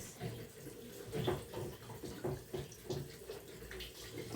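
Water runs and splashes from a tap, with hands moving through the flow in uneven bursts.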